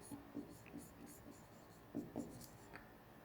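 A red pen writes on paper, making soft, quiet scratching strokes in short bursts with small pauses between them, close to the listener.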